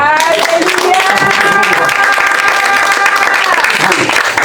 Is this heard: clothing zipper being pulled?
no